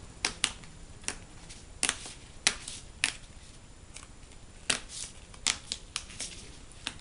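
Pieces of a cardboard sticker sheet torn out one by one, giving sharp separate snaps and small tearing clicks at an uneven pace, close by, with no talking.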